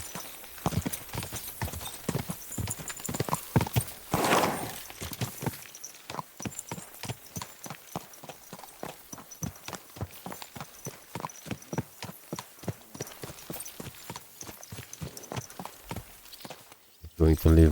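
A ridden horse's hooves clip-clop in a steady, rhythmic gait across the ground in Kingdom Come: Deliverance 2, a continuous close series of hoofbeats with a brief swell of noise and a snort, while someone talks over them.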